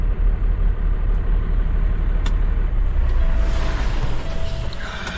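A semi truck pulls out, its engine a loud, steady low rumble and broadband drone from up close, with no one talking.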